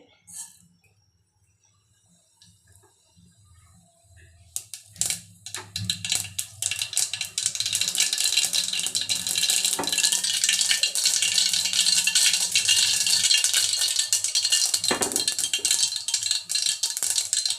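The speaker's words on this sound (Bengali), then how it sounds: "তেলটি গরম হয়ে গেলে দেখুন আমি একটু সর্ষে বাটা দিয়ে সর্ষে ফোড়ন দিয়ে দিচ্ছি, গোটা সর্ষে।" Whole mustard seeds hit hot oil in a pan while cooking a raw mango sour dish: near silence, then a sudden burst into dense, crackling, rattling splutters and pops that stay loud to the end.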